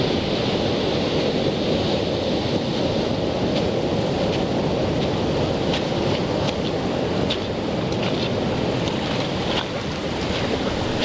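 Ocean waves along a Northern California coastal shoreline, a continuous broadband surf roar mixed with wind buffeting, steady and fairly loud throughout, with no speech.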